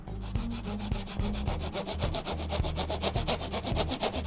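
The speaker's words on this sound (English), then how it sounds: "Using a small handsaw, we're going to cut it on a diagonal to give it the shape of a needle on a syringe." Small handsaw cutting diagonally through a wooden dowel rod, giving rapid, regular rasping back-and-forth strokes, close and steady throughout with no talking.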